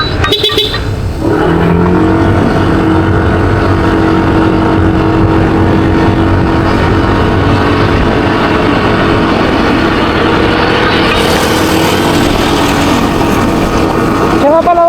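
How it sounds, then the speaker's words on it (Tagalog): A motorcycle engine set to sport mode roars loudly and steadily, holding a constant drone with a rising whine near the end, over wind rush while riding. "Maingay na daw yung ano ng motor natin."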